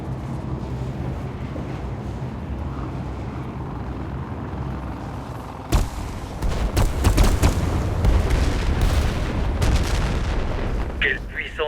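Heavy cannon fire in the Warface shooter game, a sudden loud boom followed by a run of rapid, dense blasts and rumbling over steady background noise, with a helicopter nearby.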